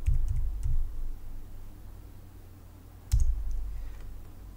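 Sharp computer mouse clicks land near the start and again around three seconds in, a couple of short isolated clicks during software work at a desk, fairly close and crisp over a low background hum, with no talking.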